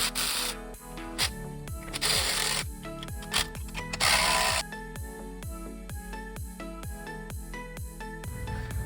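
A ratchet wrench snugs carriage bolts on a leveling kit for a GMC/Chevrolet 2500/3500 truck axle, producing loud, close, rhythmic clicking strokes with a few brief pauses.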